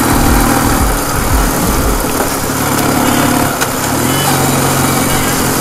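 A Ural motorcycle engine roaring loud and close as the rider opens the throttle on a turn while drifting, with a steady buzzing drone and a fall in pitch partway through.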